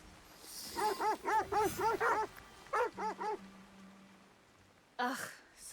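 A dog whimpering in Assassin's Creed Shadows: rapid bursts of high, nasal yips and whines in two clusters, a pause, then one last whine, with a faint low hum beneath.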